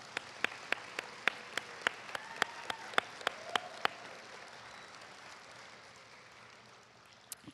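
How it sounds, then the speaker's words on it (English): Slow, evenly spaced single hand claps ring out in a quiet room at a nursing pinning ceremony in South Jordan, about a dozen crisp claps that stop partway through, leaving faint room noise. "so let's give these guys a round of applause."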